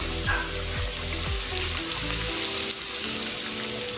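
Corn kebabs deep-frying in oil, a dense continuous bubbling sizzle close up, steady and fairly loud with no voices.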